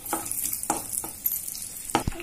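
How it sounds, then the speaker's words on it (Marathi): Dry fruits roast in melted ghee in a pan for sheera, sizzling steadily while a spoon stirs and scrapes at a quick, uneven pace, close and fairly loud with no voices. "तर आपण ड्रायफ्रुट्स ह्याच्यामध्ये भाजून घेऊया छानपैकी"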